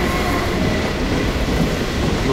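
Trains rumbling through tunnels in Half-Life 2, a loud continuous roar of rolling wheels and carriage noise that fills the whole moment without letting up.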